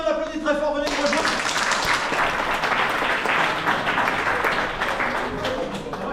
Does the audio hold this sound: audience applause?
yes